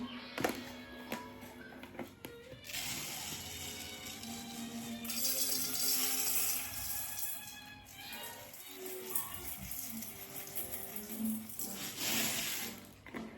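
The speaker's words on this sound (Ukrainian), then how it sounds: "Заливаємо водичку." Water is poured into an inexpensive, lightweight plastic rice cooker, a steady splashing stream that swells and fades in several bursts at close range.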